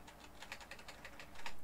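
Keys tapped on a computer keyboard while entering a website address, a short run of light, close clicks with a slightly heavier burst of presses near the end, no voices.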